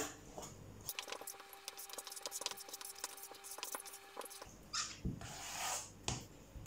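Banana cake batter is folded together with the last of the flour, giving soft, quiet squishing strokes in a bowl. The strokes come in a steady, irregular run with no voices.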